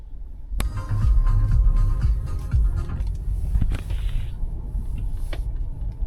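A taxi rolls through Dnipro at night, with steady low road rumble and engine drone throughout and a sharp click near the start. There is no talk.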